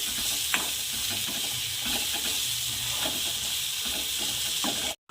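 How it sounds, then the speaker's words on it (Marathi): Tomato fries in a pan with red chili powder and turmeric, a steady loud sizzle with soft scraping stirs throughout, ending abruptly. "आता यामध्ये लाल तिखट आणि हळद ॲड करायची आहे"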